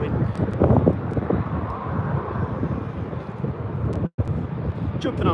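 Gusty wind buffeting the microphone at Birmingham Airport, a constant roar with a distant aircraft engine blended in and sharp handling bumps, nobody talking.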